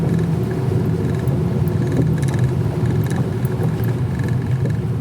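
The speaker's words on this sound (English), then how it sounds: "Good to have four-wheel drive." A four-wheel drive vehicle climbs a hilly, shaded woodland track, its engine a constant close, loud rumble that holds steady from start to finish with no talk.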